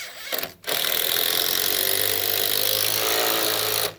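A cordless drill driving long 100mm screws into timber roof joists on a garden room build, a loud continuous whirring grind lasting about three seconds after a short burst.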